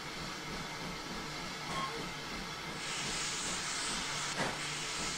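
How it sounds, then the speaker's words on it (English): Steady steam hiss from the open cylinder cocks of a GWR 14xx tank locomotive in Train Simulator 2016, a broad continuous rush that swells louder partway through, with a brief thump near the end and no talk. "Cylinder cocks are open."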